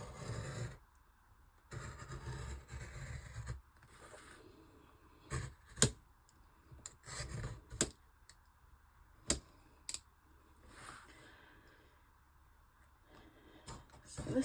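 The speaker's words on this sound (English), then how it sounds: "It's not wanting to bend, so I will have to cut a bit more." A tough book being cut with a blade, giving a series of sharp, close cutting crunches and snaps in irregular bursts, some separated by quiet gaps, with no talk.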